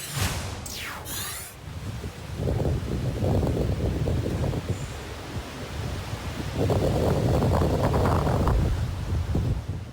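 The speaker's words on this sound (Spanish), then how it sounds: "Impresionantes imágenes de las olas que azotaron las costas de Japón durante el paso del tifón Hagibis" Storm waves battering Japan's coast during Typhoon Hagibis: heavy surf surges and crashes in two big rolling swells amid loud gusting wind buffeting the microphone, with no voices.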